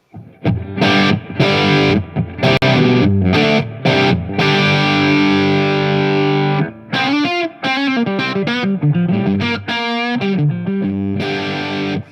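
Electric guitar played in boost mode through a pedal board with no effects switched on: loud, overdriven chords and sustained notes, then a run of bending single-note lines, with no talking.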